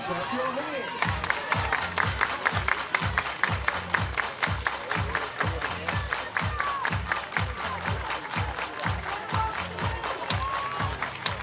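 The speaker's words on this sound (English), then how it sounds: "Everybody clap your hands." A crowd at a state championship softball game claps in steady unison, a fast, even rhythm of sharp claps that runs throughout while an announcer talks over it.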